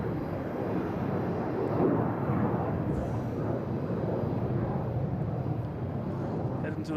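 At Boston Logan, a Delta Airbus A321 departing for Orlando sends out a continuous broadband jet roar that stays fairly loud and even throughout, with some talking mixed in.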